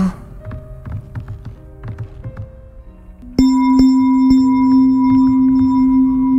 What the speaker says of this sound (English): Did the bell just go to a place?